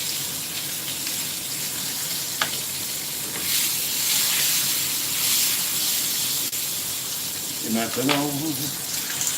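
Duck breast sizzling and frying in a pan as it is flambéed, a steady crackling hiss running throughout with a brief burst near the end, while someone speaks briefly over it.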